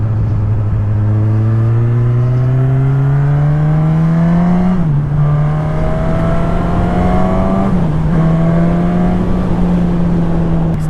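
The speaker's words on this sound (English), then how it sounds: "Stock exhaust, stock everything, and it sounds like a rocket ship." A stock-exhaust 2020 Suzuki Katana inline four-cylinder motorcycle engine revs up in long rising pulls, with two brief dips at shifts before climbing again, loud and close throughout.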